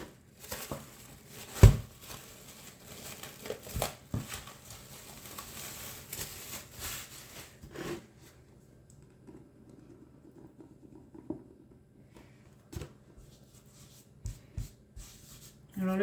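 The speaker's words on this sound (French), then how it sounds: "je vais pouvoir maintenant étaler ma pâte pour pouvoir commencer le tourage" Viennoiserie pastry dough is rolled out on a floured work surface, with soft rubbing and patting, scattered light thumps and knocks, and long quiet stretches in between.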